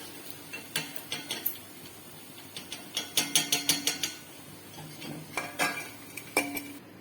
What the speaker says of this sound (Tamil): பக்கோடாவை எடுத்துடலாம்.